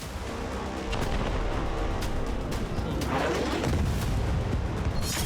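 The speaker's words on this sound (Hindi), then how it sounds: "आईडीएफ उत्तर और दक्षिण गाजा में एक साथ भीषण हमले कर रही है।" Attacks across Gaza: a dense, continuous rumble of distant explosions and gunfire rolls on without pause, with scattered sharper blasts poking through the heavy low roar.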